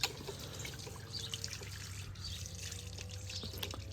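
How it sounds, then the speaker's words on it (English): A garden hose runs water that trickles and drips steadily while a Chevy Cruze is washed after ceramic coating, a soft continuous liquid patter with small splashes, heard fairly close and alone. "let me close the water real quick right here."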